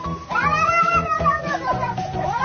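A cat meowing in a short meme clip, a couple of close, wavering cries with harmonics that rise and fall over two seconds, with muffled background noise beneath.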